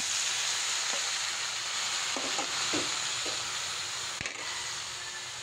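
Chicken with garlic and onion sizzling in a pan for a chicken afritada, a constant close frying hiss with a few soft stirring scrapes and taps and no talk.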